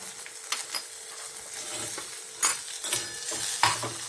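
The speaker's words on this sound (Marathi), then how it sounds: "कांदा छान सोनेरी रंगावर आपण परतून घेणार आहोत" Chopped onion and partly crushed peanuts fry in a hot pan for a beetroot-leaf vegetable dish, giving a steady close sizzle broken by several louder scraping stirs.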